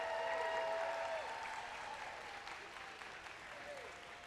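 Families applaud kindergarten graduates at a celebration, a soft, fairly distant patter of clapping that thins out over a few seconds beneath a faint tonal ring.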